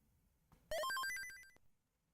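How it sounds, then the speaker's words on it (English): A short, bright Discord notification chime on a phone: a quick rising run of electronic tones lasting under a second, heard alone in a quiet room. "Why am I getting notifications from Discord?"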